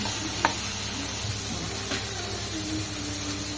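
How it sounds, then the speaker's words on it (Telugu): Food fries in a pan until browned, giving a continuous, even sizzle and hiss with a couple of faint clinks from stirring and no voices. "ఇట్లా మంచిగా కొంచెం బ్రౌన్ కలర్ అయ్యేదాకా ఫ్రై చేసుకోవాలి."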